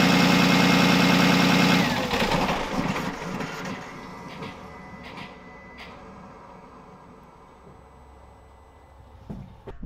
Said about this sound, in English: you should be able to pick up hearing that turbo still just spooling away with no oil feed to it